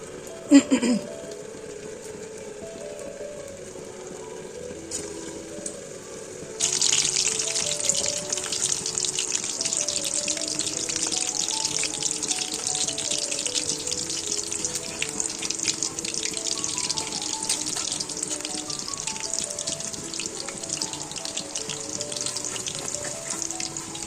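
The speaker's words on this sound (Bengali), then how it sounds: "সজনে ফুলের বড়া ভাজবো এখন।" Drumstick flower fritters dropped into hot oil in a wok, starting with quiet kitchen sounds, then a sudden loud, continuous sizzle that stays dense and steady to the end.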